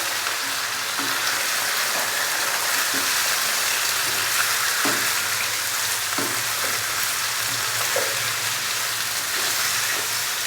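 Steady, dense sizzle of chicken frying in a pan with ginger-garlic paste for a dhaba-style aloo chicken shorba, with occasional stirring clatter and no talk.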